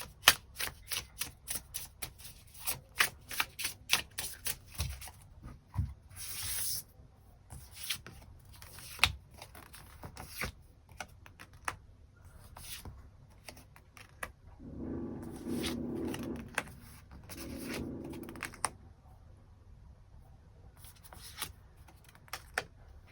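Tarot cards being handled in a quiet room: rapid crisp shuffling riffles and flicks, then softer sliding and rustling bursts as cards are drawn.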